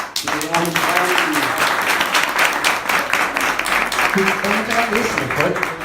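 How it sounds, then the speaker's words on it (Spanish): Audience applause at a Chilean LGBTI citizens' dialogue event with a presidential candidate, a sustained dense wash of clapping filling the room from start to finish, with voices faintly audible within it. "Así que yo pido un aplauso para ti."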